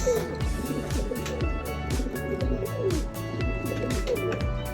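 Racing pigeons coo repeatedly inside a loft, overlapping throaty calls rolling in a steady rhythm, with faint background noise.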